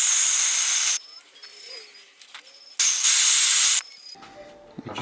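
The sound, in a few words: oil burning with a hiss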